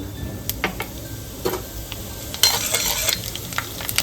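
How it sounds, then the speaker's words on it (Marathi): Cumin seeds crackling in hot ghee in a pan, a close, fairly loud sizzle with sharp pops and spits that grows busier partway through. "तूप चांगलं तापलेलं आहे आता आपण जिरं टाकून घेऊ"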